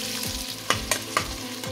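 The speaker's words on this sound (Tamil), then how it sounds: "கொஞ்சம் பொரியட்டும். ஒரு பெரிய வெங்காயம் நீட்டு வாக்கில் கட் பண்ணி வச்சுருக்கேன், அதை சேர்த்துக்கலாம்." Whole spices and long-sliced onion frying in a pan for paneer pulao, a dense steady sizzle with a few sharp stirring knocks against the pan, close by and with no talking.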